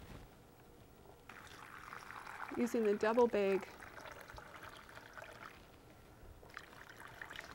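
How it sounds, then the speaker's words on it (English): Brine pouring over shredded cabbage in a jar for homemade sauerkraut, a short gurgling pour of about a second, fairly close, between quiet talk. "And pour the brine in"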